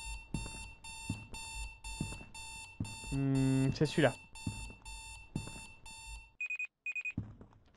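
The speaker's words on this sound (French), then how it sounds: "Tu vas l'éteindre ton réveil." Alarm clock ringing in Strange Night, a loud, regular run of repeating electronic rings under a brief spoken line and a louder shout. It cuts to a few high beeps, then silence.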